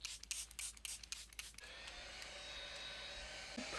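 A few quick bursts of Charlotte Tilbury matte setting spray, then a steady close-up aerosol hiss that holds evenly for a couple of seconds.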